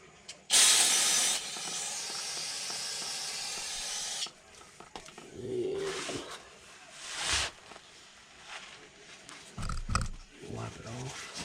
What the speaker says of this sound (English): We'll spray it off here.